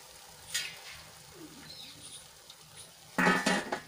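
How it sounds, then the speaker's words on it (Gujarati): Jalebi frying in hot oil gives a faint, soft sizzle, broken by a few brief clinks and a louder burst of bubbling near the end. "ફેરવી ફેરવીને સરસ રીતે તળી લેવાની છે"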